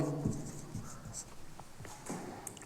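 Chalk or marker writing a sentence on a board, scratchy strokes in short uneven bursts, close and moderately quiet with no talk.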